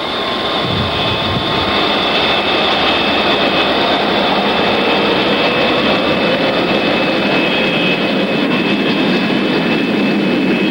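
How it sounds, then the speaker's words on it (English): The jet engines of an SST airliner roar loud and unbroken through the takeoff roll. A thick, steady wall of engine noise carries a sustained high whine from start to finish. "Maiden One cleared for takeoff. Roger, Maiden One ready to roll."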